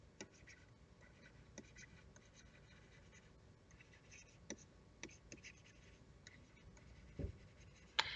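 Pen or marker writing out a definition, faint scratchy strokes running through with occasional small taps and clicks, quiet and close, no voices.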